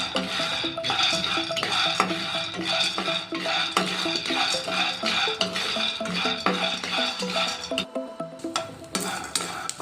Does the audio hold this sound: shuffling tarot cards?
no